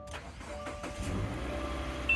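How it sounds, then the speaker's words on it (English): The engine of a 2017 Subaru Forester cranks and catches after a battery jump, a low, rough mechanical rumble that swells into a steady idle, moderately quiet and heard without speech. "So let's crank up the engine."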